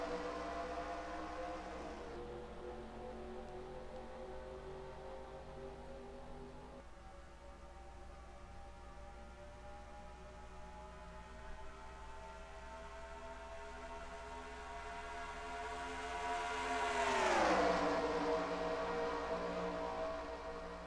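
Chevrolet racing trucks in the NR2003 game at Pensacola drone on a restart as a steady layered engine whine that holds, then rises and bends in pitch as the pack passes close, with no talk.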